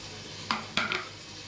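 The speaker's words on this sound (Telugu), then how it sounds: "గుత్తొంకాయలు అయితే ఫ్రై అవుతున్నాయి" Stuffed brinjals frying in oil give a low sizzle, broken by two sharp clinks of a utensil against the pan, close and brief.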